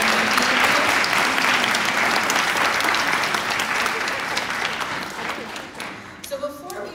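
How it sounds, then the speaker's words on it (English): Dense, sustained applause from a crowd at a community district meeting, continuous clapping that tapers off near the end as a voice begins speaking. "round of applause for them"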